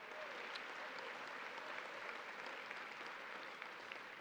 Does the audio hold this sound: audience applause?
yes